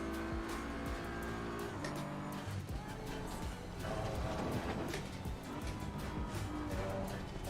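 A race car engine in a racing video game drones steadily and continuously at Silverstone, rising and falling with gear changes, with some tire noise, at a fairly quiet level.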